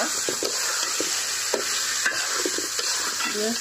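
Drained rice for pulao fries and is stirred in a pan, a steady close sizzle broken by repeated soft scrapes and knocks of the spoon, moderately quiet, with no talk.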